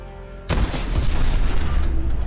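An enemy ship explodes in the video game Call of Duty: Advanced Warfare, a sudden loud boom followed by a sustained rumbling blast with crackling debris that carries on for about two seconds, with no talk.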